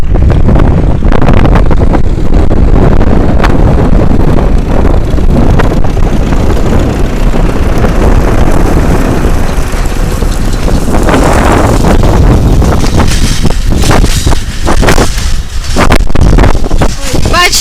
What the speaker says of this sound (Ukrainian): Вітер сильний такий дує.